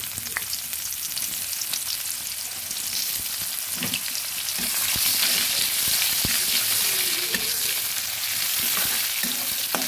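Chopped onions fry in mustard oil, producing a loud, constant sizzle that swells midway, with scattered utensil scrapes and taps as they are stirred, close by and free of speech.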